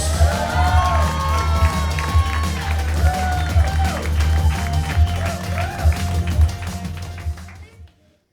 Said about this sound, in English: Please start claps out together for Rory Spence!